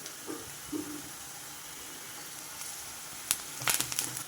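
Curry leaves sizzle in hot frying oil with a steady hiss, crackling in sharp pops near the end, alone and close.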